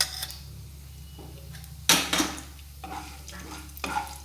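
Cumin, mustard seeds, urad dal and chana dal crackle in hot oil while a spoon stirs and scrapes the pan, giving a faint sizzle broken by a few sharp clinks and scraping strokes.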